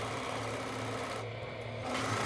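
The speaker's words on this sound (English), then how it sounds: "following that I'm going to sew the inner seam of the leg" A sewing machine stitches the inner leg seam of a pair of bell bottoms with a quiet, steady whirring hum and no speech.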